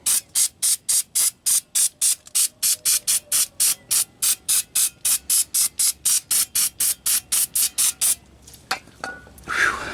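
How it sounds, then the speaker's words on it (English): Carb cleaner from an aerosol can sprays in a quick series of about two dozen short, sharp hissing bursts, close and loud, before stopping and giving way to a few soft handling noises. "Let's use our carb cleaner here. Just kind of hose that off a little bit."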